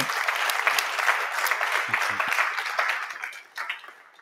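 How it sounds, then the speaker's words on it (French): Conference audience applause at a sailing lab event, a full even patter of many hands that fades toward the end, with a brief voice underneath. "Je crois qu'on peut les applaudir avant de, de terminer."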